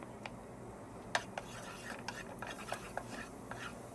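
Minced garlic stirred in a hot pan with oil, giving faint scraping and light clinks of a utensil against the pan over a quiet background. No talking is heard.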